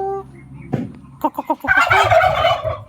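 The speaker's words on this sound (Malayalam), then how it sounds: "ഏ നമുക്ക് പ്രതികരിക്കുന്ന കോഴിയോ" A white chicken gives a short series of throaty clucks and a rising squawk, close by and loud, with a little rustling before it.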